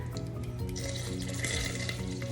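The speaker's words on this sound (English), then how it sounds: "Ooh, listen to that sizzle." Steady, close hiss of food sizzling in a hot pan, with faint clinks and a low hum beneath it.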